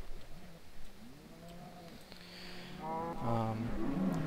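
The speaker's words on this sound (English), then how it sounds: "As you can see, we got about 40 cows right now" Minecraft cows packed into water channels moo one after another, a string of overlapping low lowing calls rising toward the end, fairly close and clear.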